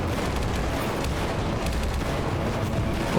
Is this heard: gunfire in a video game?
yes